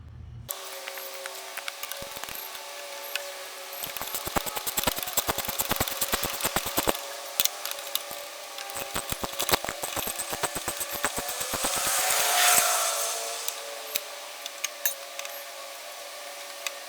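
A power tool works bolts loose on the deck of a DR SP30 30-inch mower, with bursts of rapid mechanical rattling and impacts, then a rising whir near the end.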